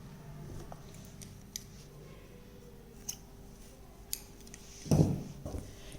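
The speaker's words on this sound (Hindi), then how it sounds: "धागा काट देंगे," Scissors snip through crochet yarn while finishing a small woollen dress, with faint light clicks and handling noises, then one sharper, fuller cut close by near the end, quiet room, no talking.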